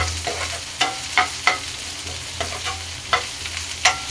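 Curry leaves and onions frying in a pan, a steady sizzle broken by sharp scraping strokes of a spatula at an uneven pace, close and clear with no talk.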